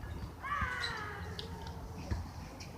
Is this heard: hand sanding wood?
no